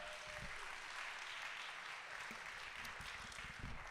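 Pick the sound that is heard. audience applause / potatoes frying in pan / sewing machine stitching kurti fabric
audience applause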